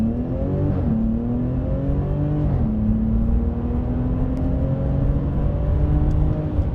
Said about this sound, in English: you can hear that really cool burble in between the shifts